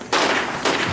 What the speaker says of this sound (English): Firecrackers. Firecrackers.